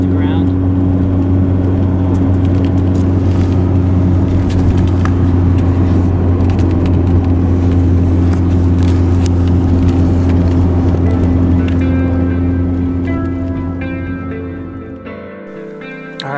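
A vehicle with oversized tires ploughs through snow drifts in a blizzard, its engine a loud, steady, close rumble that holds, then eases and fades in the last few seconds.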